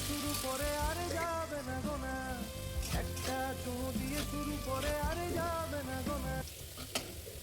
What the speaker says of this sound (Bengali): এখানে আলুটা আমি ভাজা শুরু করে দিয়েছি